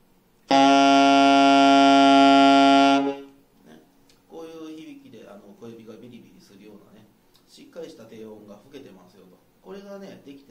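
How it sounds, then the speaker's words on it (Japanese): A single low, sustained alto saxophone note, its lowest fundamental rather than an overtone, held for a few seconds, loud and steady, followed by someone speaking. "一番低い音、オーバートーンじゃない音ですね。 これを基音というふうに呼んでます。"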